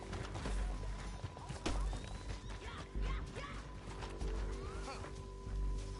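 Horses in Red Dead Redemption 2, with steady hoof clip-clop and occasional whinnies over a busy game soundscape, moderately loud and continuous.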